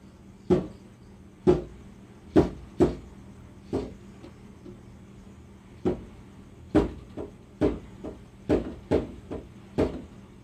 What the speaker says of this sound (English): we begin to hear the knocking, which sounds like one normal knock done every second